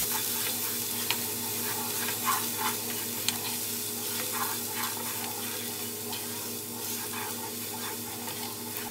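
Minced garlic sizzling in olive oil in a hot pot, a steady close frying hiss with occasional soft crackles and stirring scrapes, continuous throughout without talk.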